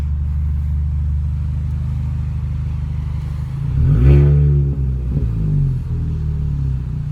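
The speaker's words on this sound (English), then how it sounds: "Let me see if I can rev it." A straight-piped R53 Mini Cooper S idles with a deep, loud exhaust rumble, then revs once sharply, its pitch climbing and falling back before it settles into idle again.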